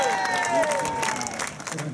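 A crowd on shore applauds and cheers as a sculling boat crosses the finish line at a sculling championship, scattered clapping mixed with faint whistles and voices, moderately distant.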